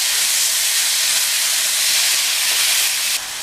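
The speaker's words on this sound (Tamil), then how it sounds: "அதை சேர்த்துட்டு இதை நல்லா வதக்கிக்கலாம்." Onions and tomato sautéing in a pan for a brinjal and drumstick masala, a loud, steady, close sizzle that fills the whole stretch and drops slightly near the end.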